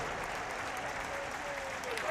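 A Czech cheering section at the Tokyo Dome during a World Baseball Classic game applauds in a steady, moderately distant wash of clapping that continues through the whole moment.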